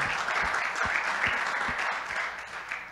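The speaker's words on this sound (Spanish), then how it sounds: "¿Por qué no le damos un aplauso a los que nos ven por las redes sociales? Un aplauso." A church congregation claps in a steady, moderately loud round of applause, the sound thinning slightly toward the end and heard without talk.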